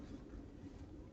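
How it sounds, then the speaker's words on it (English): A passing train gives a steady, low rumble that fills the background, distant and faint, with no voices on top. "The train is going by and it might get loud."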